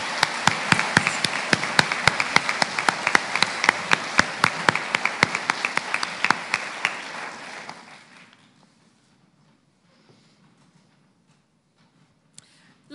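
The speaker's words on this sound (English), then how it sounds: "I think that deserves a round of applause" Audience at a school prize-giving ceremony claps loudly for about eight seconds, many hands with crisp individual claps, then fades out abruptly into near silence with a lone faint tap near the end.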